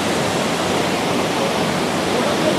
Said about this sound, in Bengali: এই জলটা পড়ছে নিচে, এই জায়গাটা, এই জলটা পড়ছে উপর থেকে জল